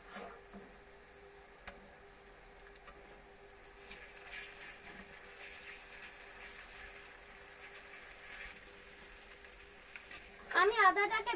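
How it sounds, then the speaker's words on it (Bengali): Ginger is frying in a pan with reddened garlic and onion for a mutton kosha, a quiet steady sizzle that swells into louder crackling and stirring near the end. "এবার আমি আদাটাকে তুলে দেবো"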